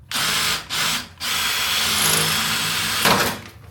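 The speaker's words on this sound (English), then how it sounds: "I'm gonna have no choice but to drill out the rivets" A power drill whines in short bursts, then runs in one longer steady stretch, heard close up as it bores out metal rivets on a Land Rover Discovery 2 condenser fan mount.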